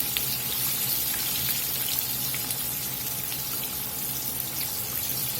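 Chicken frying in hot oil at about 350 degrees, a dense, even crackling sizzle with fine popping that holds steady and close throughout, with no voices.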